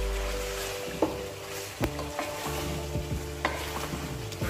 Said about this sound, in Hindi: अभी इसको अच्छी तरह मिक्स कर लेना है कढ़ाई में।